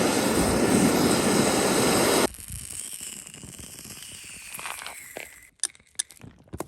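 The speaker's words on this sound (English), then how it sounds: "I just prefer to get a blowtorch on it" A blowtorch roars loudly and steadily as it heats the rubber suspension arm bushes of a VW T4, then cuts off abruptly. Quieter workshop clanks and clicks follow.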